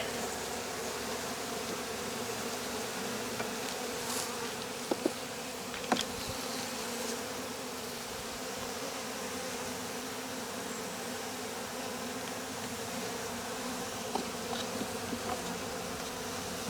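Honeybees buzzing steadily around an open beehive during spring cleaning, a dense continuous drone with a few brief closer passes and small knocks, no voices.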